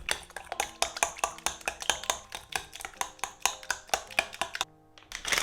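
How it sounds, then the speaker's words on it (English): Mashed banana and two eggs are whisked together for protein pancakes, a utensil knocking against the bowl in a fast, steady rhythm of close clinking strokes that stop briefly near the end. "First, I mash a banana, then I add 2 eggs and mix."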